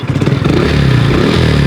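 Motorcycle engine on a water bike built on plastic drums, starting up and running loud and close with a rough, rapid throbbing idle and some rattling.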